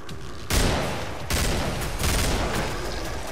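Gunshots from Killing Floor crack out loud and close, a sharp blast followed by heavy continuous firing with fresh bursts at regular points, no voices heard.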